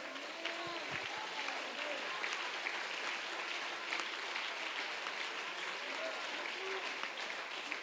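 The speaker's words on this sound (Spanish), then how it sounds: "¿Quiere dar un aplauso digno de Dios?" A church congregation claps together in sustained, steady applause filling the room, a dense even wash of handclaps with a few faint voices mixed in.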